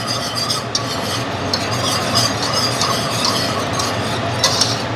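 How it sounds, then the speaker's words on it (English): Salt, cumin and paprika are stirred in a pan, giving a continuous rasping, scraping rub that runs steadily throughout at close range, with no talking. "Now we are going to add the salt, the cumin, and the paprika. Okay. Give them a good stir."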